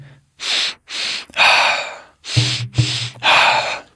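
Deep, forceful breaths during a guided connected-breathing exercise, six strong inhale and exhale bursts in a steady rhythm, close and loud, with short pauses between them and no speech.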